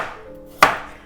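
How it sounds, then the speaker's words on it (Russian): A single crisp knife chop through a medium carrot on a board, cutting it into thin rounds, close and clear with nothing else around it. "Дальше я беру одну морковь среднего размера и нарезаю кружочками"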